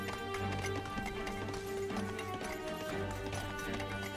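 Horse archers in the Age of Empires 2 strategy game make rapid, steady hoofbeats that run without a break over game music.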